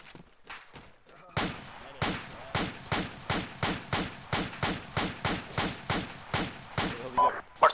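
Suppressive automatic gunfire in a combat engagement: a steady, rapid run of about fifteen loud, close shots at an even rhythm after a short pause, with no talking.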